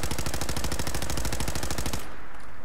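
Rapid automatic gunfire from a gun in the video game Fallout 4, a loud, steady rattle of closely spaced shots for about two seconds before cutting off abruptly into quiet.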